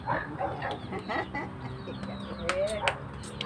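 Chickens cluck nearby in a yard with a dog and goats around, short repeated clucks scattered over low background chatter and farmyard noise.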